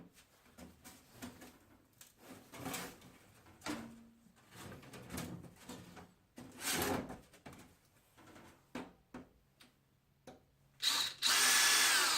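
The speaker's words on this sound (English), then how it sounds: "now we'll drill that out" Short intermittent bursts of a power drill boring into wood, with handling clatter between them and a louder rising whir at the end.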